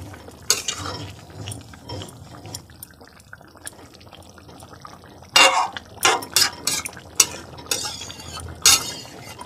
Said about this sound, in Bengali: এবার এটাকে একটু নেড়ে চেড়ে দিতে হবে।